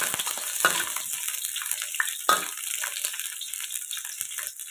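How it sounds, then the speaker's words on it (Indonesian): Sliced ginger sautéing in a hot pan gives a steady, close sizzle with scattered scraping and stirring clatters of a utensil, no voices. "irisan jahe kita tumis-tumis sampai harum"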